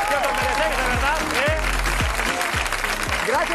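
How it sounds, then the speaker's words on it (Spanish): Studio audience at a television show applauds steadily, a dense wash of clapping with a voice talking loudly over it throughout. "Un aplauso para vosotros mismos."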